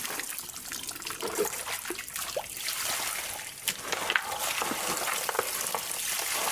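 Water flowing in a small stream where gold is being panned, a steady broadband rush with small trickles and splashes, moderately close and continuous with no voices.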